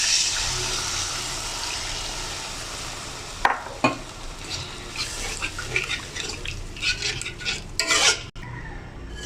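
Water poured into sizzling spice masala for pabda fish bhuna makes a loud rushing hiss for a few seconds, then it settles into a softer simmer broken by close, irregular spatula scrapes and knocks in the pan.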